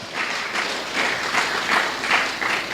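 A church congregation applauding together, a dense wash of clapping that swells in rhythmic pulses about twice a second, loud and filling the room, with no clear speech over it.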